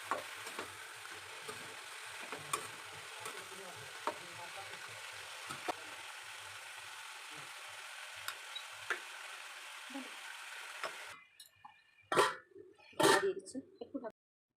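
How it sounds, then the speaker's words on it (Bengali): Mixed vegetables tempered with panch phoron, dried red chilli and bay leaf frying in a small kadai, a steady sizzle with repeated scraping stirs for about eleven seconds, then quieter sparse clatter at the end. "সবজিটা ভাজা হয়ে গেছে"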